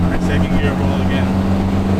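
Mitsubishi Evo accelerating hard in a second-gear roll, a steady loud engine drone with a strong low hum throughout, sounding close and continuous, with faint voices mixed in.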